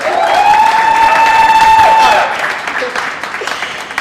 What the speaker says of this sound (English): Give a round of applause. Come on, you guys.